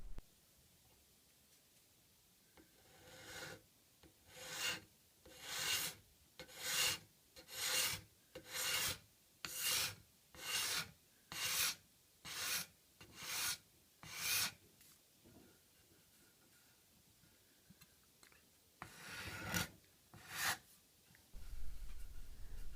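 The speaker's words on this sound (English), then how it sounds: "So I'm going to use a card scraper to level that out" Card scraper leveling a repaired wooden chair leg: about a dozen steady, rhythmic rasping strokes close up, then a short pause and two more scrapes, with no talk.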